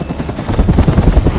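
A loud helicopter in a scene from Terminator Genisys drones with a steady, pulsing rotor thump, close and dominant, with no voices over it.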